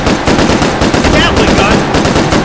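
A mounted Gatling gun in the virtual-reality shooter H3VR fires a loud, continuous rapid burst of shots, dense and close throughout.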